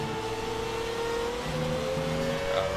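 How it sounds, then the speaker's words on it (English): V10 Formula 1 engine in the F1 2017 video game revving hard with a rising, sustained high-pitched whine, loud and continuous through the whole stretch, alone with no voices. "What's that V10 there? Very nice."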